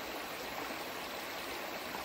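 Water pours steadily through a water filter in a continuous, loud, close rushing stream.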